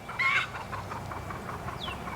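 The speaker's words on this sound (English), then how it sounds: "A daggum chicken." A chicken gives a couple of sharp clucks close by outdoors near a portable garage, then quieter squawks follow over faint wind.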